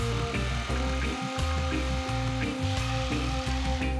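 A power saw, either a jigsaw or a plunge saw, cuts laminate flooring lengthwise with a loud, steady buzzing drone, broken by brief dips as the blade moves through the board.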